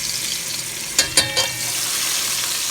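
Garlic sizzling in a hot pan while a Cajun chicken Alfredo is cooked, a constant bright hiss of frying with a few sharp clinks or spatters near the middle, close and steady, no speech.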